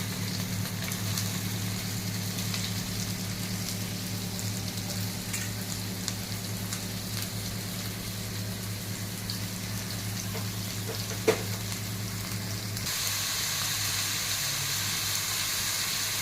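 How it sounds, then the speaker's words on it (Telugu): Onions, ginger pieces and green chillies frying in oil for egg curry, a dense continuous sizzle held close and steady, with a faint tap partway and a brighter hiss toward the end, no one speaking. "అల్లం ముక్కలు పచ్చిమిర్చి ఆనియన్స్ ఆనియన్స్ కూడా ఫ్రై చేసుకుంటాం ఆయిల్లో"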